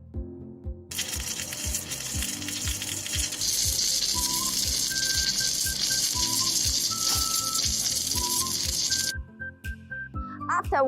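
A gantry welding machine welds the circular seam of a wind tower section in a workshop, giving a continuous crackling, hissing arc noise for most of the stretch, over faint tonal background music.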